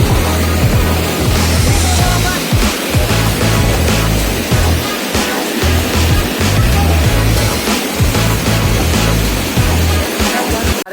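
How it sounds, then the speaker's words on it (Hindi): Strongly flowing mountain stream in Uttarakhand, swollen after recent rain, roars loudly and continuously up close with a dense rushing wash, alone without talk. "पानी देखो कैसे कितना तगड़ा बह रहा है"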